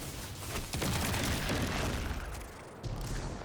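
A grenade blast in the Destiny 2 video game, a loud broad boom with dense rumbling gunfire-like noise around it, followed by a second thud near the end, with no speech.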